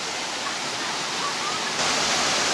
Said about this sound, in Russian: Это же бегущая вода.